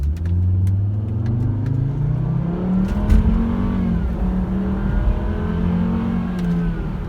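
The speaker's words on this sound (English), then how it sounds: "I'm sitting at a red light, and when it turns, I'm gonna hammer it" A Volvo V70R with an aftermarket exhaust accelerates hard from a red light, its engine revving up loudly with rising pitch through the gears, close and continuous for several seconds.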